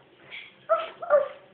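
A voice imitates a dog with a few short, yelping barks, fairly quiet and close, the last two coming in quick succession.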